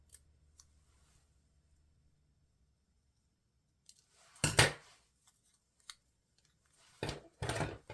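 Scissors snipping through scrapbook paper while cutting a border, a few short crisp cuts in quick bursts against a quiet background, close and moderately loud.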